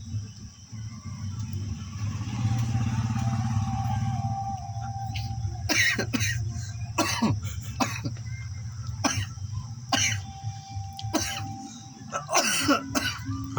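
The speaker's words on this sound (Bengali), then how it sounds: "কাশিটা হয়ে যাচ্ছে তো" A man coughs and clears his throat repeatedly after smoking a bidi, a burst of harsh, close coughs in an uneven rhythm outdoors, with crickets and insects chirping steadily in the background.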